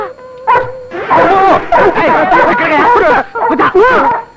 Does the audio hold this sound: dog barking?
yes